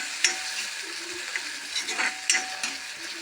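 Sliced onions and tomatoes frying in a pan for a pappadam curry, stirred continuously, with a steady sizzle and repeated scraping and clinking strokes of a spoon against the pan.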